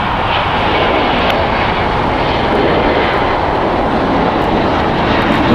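An American Airlines Boeing 737-800 airliner, seven years old, departs LAX with a steady, loud broadband engine roar that holds evenly throughout, with no voices heard.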